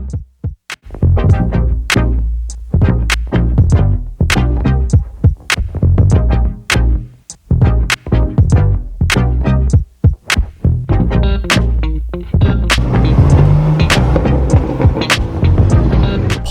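Modified Mitsubishi Evo making over 600 horsepower at a car meet, its engine throbbing and revving in repeated sharp bursts with pops and gaps, loud and close.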